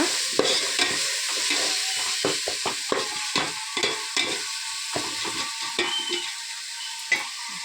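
Masala with turmeric stirred and fried in a pan for mushroom biryani, with a constant sizzle under repeated scraping and clinking strokes of the spoon, close and without talk.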